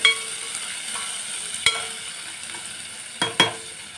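Onions fry in hot oil in a pan for a fried rice and beans dish, with a steady soft sizzle broken by a few sharp scrapes and clinks of a stirring spoon, close and without talking.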